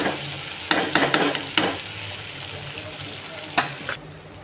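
Fried okra being stirred into a dhaba-style masala in a pan, with steady sizzling under several distinct scraping stirs and clatters of the spoon, close and moderately loud.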